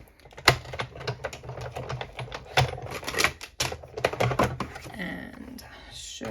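A paper card fed through a cutting machine while making a gift card holder gives a run of rapid clicking, tapping mechanical sounds close by, with a voice speaking over them.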